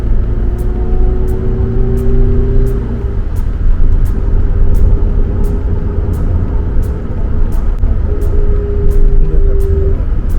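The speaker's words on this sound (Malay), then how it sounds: "Cuma saya agak kurang selesa dengan bunyi enjin ni bila kita cuba nak memecut." Engine of a 2022 Perodua Alza MPV on 17-inch tyres under acceleration; a steady, droning cabin rumble with a rising whine, continuous and fairly loud, plus faint regular ticking throughout.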